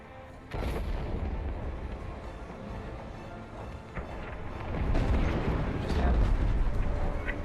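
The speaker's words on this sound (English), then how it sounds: "Wait, the frigate exploded" A frigate explodes in Star Wars Squadrons with a heavy rumbling boom that kicks in abruptly and swells into a sustained roar of blasts and eruptions, growing louder toward the end.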